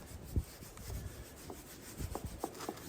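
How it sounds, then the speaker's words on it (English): A spice rub of garlic and herb seasoning being worked by hand onto both sides of a flat iron steak, heard as faint, soft scratchy rubbing strokes in irregular bursts, close and quiet, with no talk. "We'll get both sides of that good covered with that rub."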